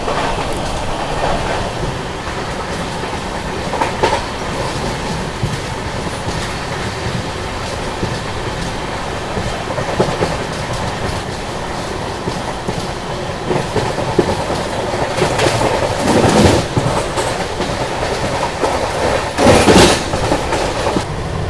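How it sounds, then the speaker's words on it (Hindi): A Tamil Nadu Superfast Express races along at high speed at night, a loud continuous roar of wheels and carriages with rhythmic clickety-clack over rail joints and brief sharper bursts. "गाड़ी देखो बढ़िया भाग रही है"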